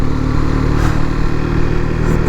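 A KTM RC 390 motorcycle engine runs at high altitude near a glacier, underperforming in thin air; a steady, loud, close single-cylinder drone with mechanical clatter throughout.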